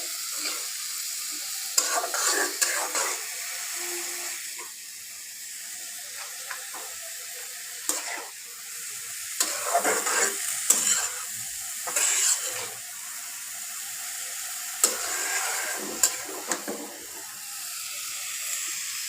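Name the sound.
beetroot vegetables frying and stirred on low heat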